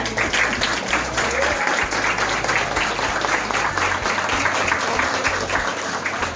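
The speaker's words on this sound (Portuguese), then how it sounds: "palmas pro professor" An audience at a law and technology lecture applauds the professor, steady dense clapping that fills the room from start to finish at a loud, even level.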